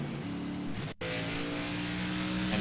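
Race car engine in iRacing at Richmond, a loud, steady high-pitched roar that breaks off briefly and resumes, rising in pitch as it accelerates.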